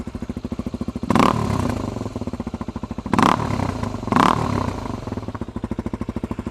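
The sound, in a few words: dirt bike exhaust with quiet core insert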